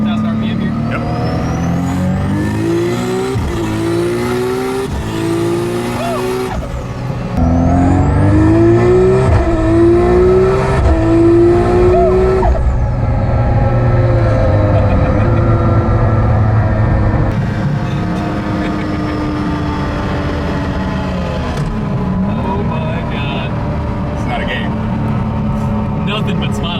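A 900 hp Nissan Skyline GT-R with a 2.8-litre stroker engine and HKS T51R turbo, driven on a street, revs hard through rising gear pulls, loud and close from inside the cabin, with brief passenger talk between surges.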